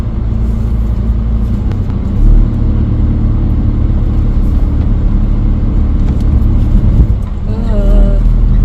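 A campervan labours up a steep gravel track hill in Wales, its engine a loud, close, continuous rumble with uneven juddering surges throughout, and a voice briefly comes in near the end.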